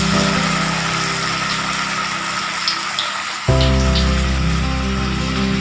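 Banana flower and rajma vadas fry in hot oil with a dense, rain-like hiss that suddenly grows louder about halfway through as another vada drops in, then holds steady. The sound is close, with no voices.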